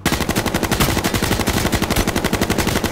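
Rapid automatic gunfire in the video game H1Z1, a loud fast regular stream of shots running evenly throughout without pause.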